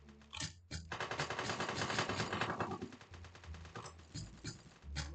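Rapid gunfire from a video game, a bank robbery shooter, rattles in a dense continuous burst lasting several seconds, then trails off into scattered shots.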